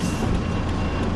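A car reverses slowly along a Yau Tong driving-test route, its engine giving a steady, close low hum with faint background traffic and no sharp changes in level.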